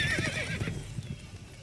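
A horse in the Witcher 3 video game gives a bright whinny that trails off, over a steady clip-clop of galloping hooves that continues to the end.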